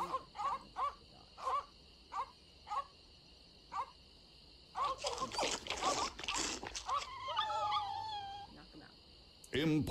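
Dogs in the Secret of Monkey Island video game give a series of evenly spaced barks, then a burst of louder barking and a rising howl-like whine, with a steady electronic tone running underneath.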